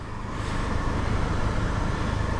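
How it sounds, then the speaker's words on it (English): 2015 Volkswagen Golf GTI just after starting, its engine and exhaust idling with a steady low rumble that swells slightly, then settles into a continuous, close drone with no talking. "Exhaust sounds good. I'll let you hear that in just a moment."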